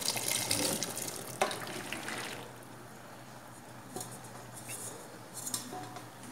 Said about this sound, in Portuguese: E vamos acrescentar também mais um pouquinho de água fervente.